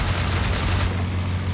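Machine-gun fire from a Fokker D.VII in the IL2 Flying Circus game, a short dense burst of rapid rounds over a loud droning engine, close and continuous for about a second before the engine carries on alone.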